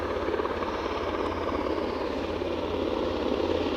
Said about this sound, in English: Another chopper in view, so let's take the straight ahead shot.